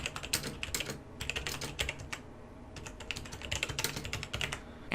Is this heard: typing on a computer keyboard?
yes